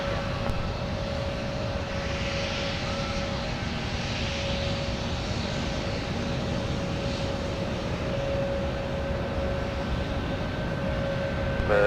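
An airliner's engines roar steadily on runway 17 at Minneapolis–Saint Paul airport, a loud continuous broadband rumble with a thin whine on top and no voices.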